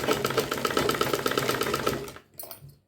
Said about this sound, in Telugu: చూడండి నేను కుట్టు కూడా వేసి చూపిస్తున్నాను